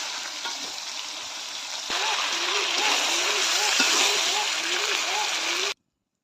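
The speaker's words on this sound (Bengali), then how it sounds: "ঝোলটা এখন আমি দিয়ে দিলাম" Broth is poured into a fish curry with potato, aubergine and tomato sizzling in the pan, the frying noise swelling to a loud, continuous hiss while a person talks over it, then cutting off abruptly.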